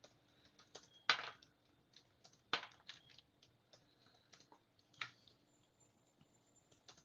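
Computer keyboard typing: sparse, soft intermittent key clicks with a few sharper, louder taps, close and quiet, with no voices.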